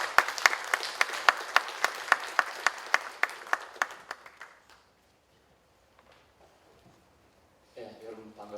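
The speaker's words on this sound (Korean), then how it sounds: "박 위원님을 큰 박수로 환영해 주십시오." An audience at a 2018 technology forum claps in warm welcome for a speaker, a steady crisp applause that fades out after several seconds, followed by a brief pause and the start of a voice.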